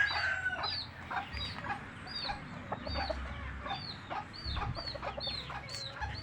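Backyard Sweater breed chickens give repeated short clucks and calls at a moderate distance, with a rooster-like call mixed in over faint background noise and no talk.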